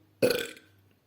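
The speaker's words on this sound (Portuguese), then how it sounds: "Arroto." A single loud, close burp that is short and throaty, with a sharp onset and a quick fade.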